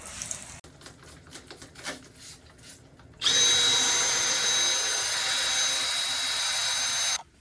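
Power drill boring holes during plumbing work, with a few short bursts followed by a loud sustained whine of about four seconds that stops abruptly, close by.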